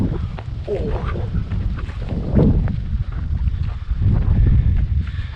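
Wind buffets the microphone at Lac fantôme on the Larzac with a continuous low rumble and gusty roar, and a voice speaks faintly underneath.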